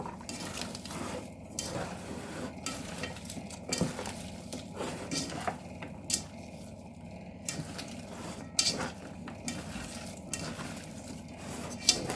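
Chicken gizzards and onion are worked together in a bowl, producing soft, steady squelching and stirring with occasional sharper clinks of a utensil against the dish, close and moderately quiet.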